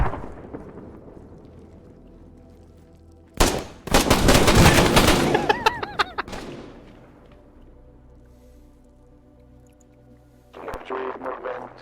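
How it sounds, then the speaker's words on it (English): Video game gunfire during a West German campaign battle, a sudden loud burst of rapid shots and booming blasts that fades out, then another volley of gunfire near the end. "I heard bullets"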